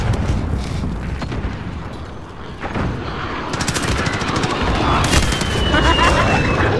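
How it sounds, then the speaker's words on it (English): An allied cruise missile strike in the video game Call of Duty Modern Warfare sets off a chaotic stretch of booming blasts and rattling gunfire that builds in loudness, with a long rising whine near the end. "Allied cruise missile away."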